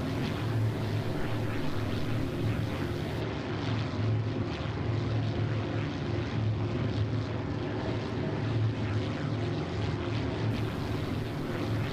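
Droning engines of a Heinkel He 111 German bomber in the Prepar3D flight simulator, a steady low propeller hum that holds at an even, loud level throughout with no pauses.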